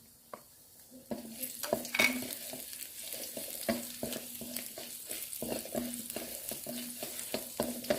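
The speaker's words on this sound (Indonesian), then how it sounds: "aku masukkan bawang putih yang udah aku cincang seperti ini, aku tumis ya" Chopped garlic sautéing in a pan for martabak telor, a close steady sizzle broken by frequent spatula scrapes and taps against the pan at an uneven rhythm.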